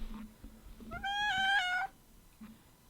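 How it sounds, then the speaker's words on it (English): A cat named Stanley lets out a single drawn-out meow, close and clear, rising then holding before cutting off, with brief soft noises around it. "Sorry, the cat is meowing."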